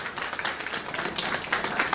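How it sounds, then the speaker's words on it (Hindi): Audience at an event hall breaks into brief applause, a dense, steady patter of many hands clapping at moderate volume for under two seconds. "एक जोरदार तालियां हो जाए"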